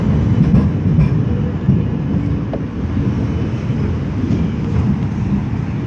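Loud, continuous rumble and rolling clatter of a train at London Charing Cross station, heard close and steady throughout without speech.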